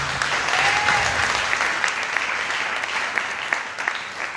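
A church congregation bursts into loud, sustained applause, many hands clapping together in a thick continuous wash, with voices faintly mixed in.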